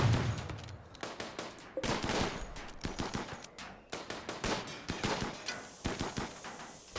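Rapid bursts of automatic fire from a smoky turret in the colony-building game RimWorld, a run of sharp cracks and rattling shots with brief gaps between volleys, fairly quiet overall.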